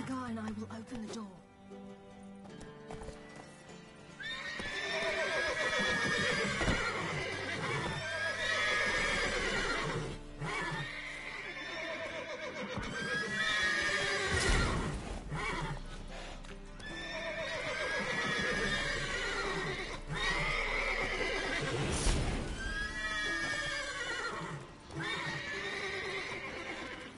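Horses in The Witcher 3 whinny and neigh again and again, loud and close, over rhythmic hoof clip-clop and a low background rumble.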